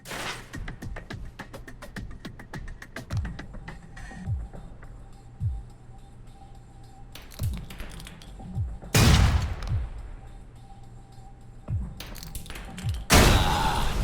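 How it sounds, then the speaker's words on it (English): Grenade explosions and gunfire blowing up a truck's gas tank in the Alpha Protocol video game, rapid cracks and thumps followed by several loud bursting booms spaced across the stretch, fairly close. "Try and chuck one beneath the truck and take out the gas tank."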